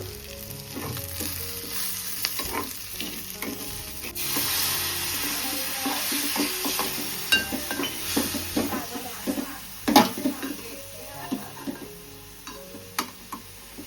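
Vegetables with spices fry in a pan while a spoon stirs and scrapes, giving a busy close sizzle with bursts of clatter and a few sharp knocks against the metal, with no one speaking.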